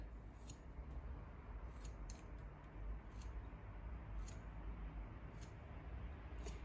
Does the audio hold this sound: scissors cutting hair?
yes